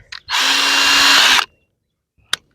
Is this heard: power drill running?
yes